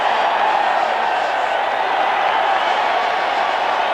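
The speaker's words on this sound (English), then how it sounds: "The crowd uproarious." A packed football stadium crowd roars continuously and loudly at a 1986 Rams at 49ers game in San Francisco, a dense, unbroken wall of cheering.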